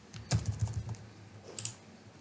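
Quick clicks of a computer keyboard while a form is filled in, a short burst of close keystrokes followed by a pause and two more taps, quiet and without talk.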